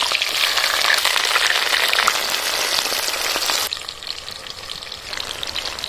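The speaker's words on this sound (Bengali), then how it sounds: "তেলটা গরম হয়ে গেছে, এবার বাঁধাকপিগুলো তেলের মধ্যে দিয়ে দেবো।" Cabbage hitting hot oil, a loud, dense crackling sizzle that settles into a slightly softer steady frying hiss partway through.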